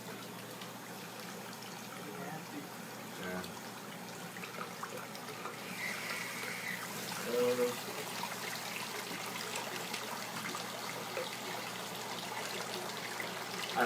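Water runs steadily through a float tent to flush out dark coloring, a soft continuous trickle and gush that swells midway, with a brief spoken word.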